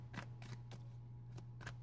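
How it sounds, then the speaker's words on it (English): Tarot cards are shuffled in quick riffling bursts, four or five short crisp rasps, faint and close over a steady low hum. "So I'll just shuffle a second while I'm talking here."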